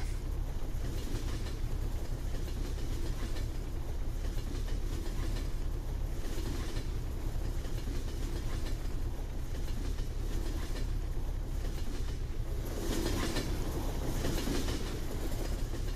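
In Farming Simulator 17, a long freight train keeps rumbling through a crossing, with wagons clattering in a steady repeating clack and a faint squeal of wheels. The rolling noise is loud and unbroken and no one speaks.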